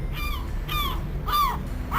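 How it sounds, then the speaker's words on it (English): Seagull cries from the video game Pier Solar: four loud, harsh squawks repeat in a quick, regular rhythm over a steady low game background, with no voices. "Some intense seagull sound effects."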